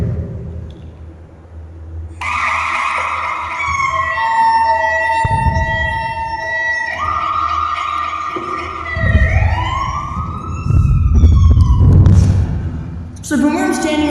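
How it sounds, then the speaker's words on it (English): Fire truck sirens responding to a wildfire wail and yelp loudly and close by, sweeping up and down in pitch over a deep engine rumble, with air horn blasts and a voice talking underneath. "I can hear the fire trucks out there right now."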